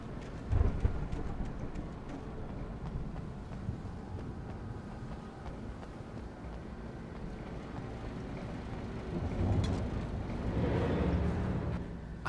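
Thunderstorm in Alan Wake Remastered, a steady wash of rain and wind with low rolling thunder swelling near the end, continuous and fairly distant.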